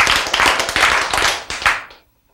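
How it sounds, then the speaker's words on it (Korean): Church congregation clapping together in a quick, dense burst of handclaps, close and loud, lasting about two seconds before stopping abruptly into silence. "박수!"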